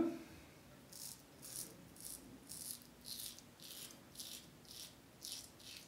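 A safety razor with a Lithe head and an Astra SP blade scrapes through stubble in steady, rhythmic strokes, about two per second. The crisp rasping passes sound close and fairly quiet, with no voice over them.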